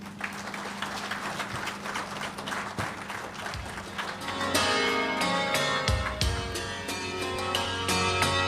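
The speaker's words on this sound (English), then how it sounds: "A round of applause one more time." Audience applause at a launch event, sustained clapping from a crowd that turns louder and denser partway through and continues to the end.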